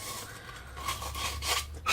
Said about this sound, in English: We're going to put it inside our cleaner and twist it. And this is just roughing up the pipe so that the solder will stick